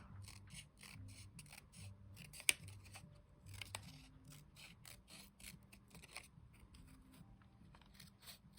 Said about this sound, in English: I'm just going to cut on this line a little bit better.